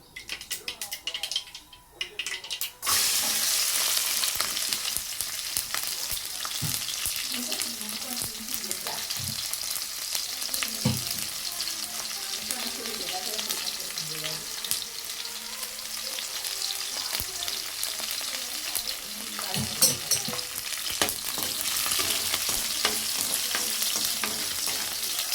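Garlic fries in hot oil as the tempering for horse gram sambar, a continuous loud sizzle beginning after a short pause, with occasional clinks of stirring and a person talking over it.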